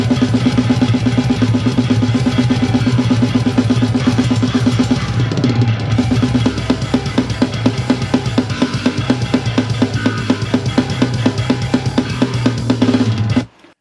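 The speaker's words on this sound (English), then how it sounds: "And the bass and drums sound like this together." Programmed death metal drums with a grindy distorted bass through a Grindstein plugin: fast, tight blast-beat kick and snare hits over a thick, growling low bass, loud and relentless, ending abruptly.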